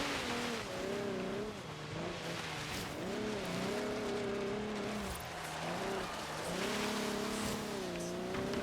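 An 80s rear-wheel-drive car on normal tires slides on snow in Forza Horizon 3, its engine droning and rising and falling in pitch as revs change, with tire noise beneath, loud and continuous with no talk.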